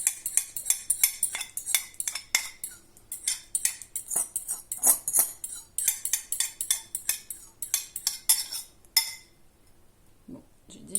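Utensil scraping and clinking against a bowl while cake batter for a gluten-free, dairy-free chocolate banana cake is stirred with an egg and banana mixture, a quick repeated rhythm that stops near the end.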